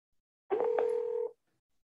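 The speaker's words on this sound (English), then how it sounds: "It's dialing now." Touch-tone telephone dialing from a Vici dialer placing a three-way call: one steady DTMF tone lasting under a second, loud and close, alone with no talking.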